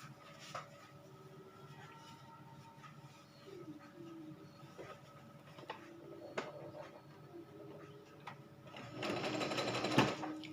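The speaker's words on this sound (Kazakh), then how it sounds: "Енді мына бетін былайша етіп жауып тігіп аламын" A sewing machine stitching a child's vest runs in a steady, quiet mechanical whir, punctuated by small clicks, then grows louder and busier near the end; no one speaks over it.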